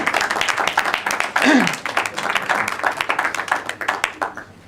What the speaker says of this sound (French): Voilà, vous pouvez les applaudir.